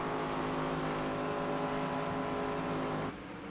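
Race cars at Pocono Raceway in the video game iRacing, a sustained droning engine roar at steady pitch that drops abruptly in level near the end, with no talk.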